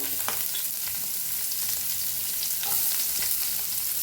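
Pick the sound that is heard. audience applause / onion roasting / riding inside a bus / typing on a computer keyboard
onion roasting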